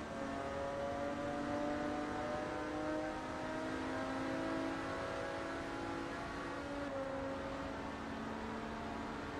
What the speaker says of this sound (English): That TVR is much quicker.